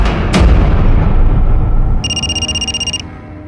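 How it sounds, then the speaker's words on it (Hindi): A telephone bell rings once in a short electronic trill, following a loud thump, over a rumbling background. "तुम्हारा फोन बज रहा है, लैंडलाइन से"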